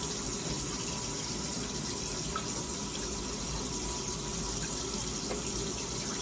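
Steady water spraying from a shower head, a constant close hiss and rush of flowing water that runs on without a break.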